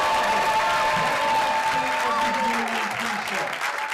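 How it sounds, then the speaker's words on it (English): Audience applause fills a live pre-show event at the White House in Washington, D.C., a dense, steady wash of clapping from a large crowd, loud and continuous throughout with faint voices mixed in. "Please give yourself a round of applause"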